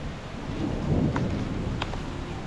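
Big thunderstorm passing over a coastal town, a low rolling rumble of thunder swelling and fading over steady rain hiss, with a couple of sharper cracks.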